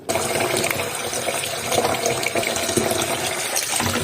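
Tap water running steadily into a sink while small salted fish (bisaria) are washed in it, a loud continuous gushing splash with small knocks and stirring, close by and without talk.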